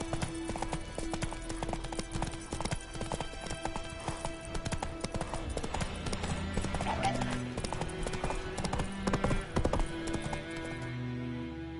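Horse hooves clip-clop steadily in The Witcher 3 video game, a continuous rhythmic trot mixed with game ambience and an occasional whinny, fairly quiet overall.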